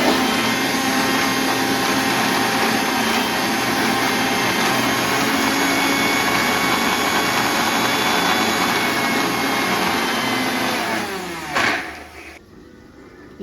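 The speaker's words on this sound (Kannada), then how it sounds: "ಚೆನ್ನಾಗಿ ನೈಸ್ ರುಬ್ಬಬೇಕು" A mixer grinder blends tomatoes and masala into a fine paste for a chicken curry, a loud, steady motor whine running unbroken for about eleven seconds before spinning down and cutting off.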